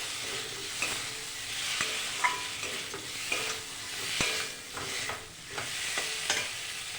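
Eggs and potatoes cooked down with spices in a pan for egg curry give a steady close sizzle, broken by sharp scraping clicks of a spatula stirring every second or so.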